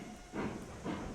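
Locomotive brake release in RailRoads Online: two soft bursts of steam hiss, faint and close, separated by a short pause over a low rumbling background.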